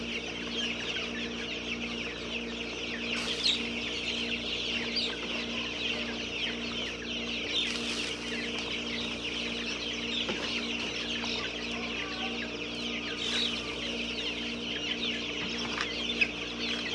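Chickens cluck steadily in a farmyard at feeding time, a dense continuous chorus of fowl under a constant hum, with a few louder calls standing out.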